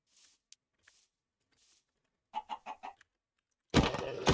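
Chickens from the video game Minecraft give a quick run of four clucks after a few faint sounds, then a louder burst of noise closes the moment.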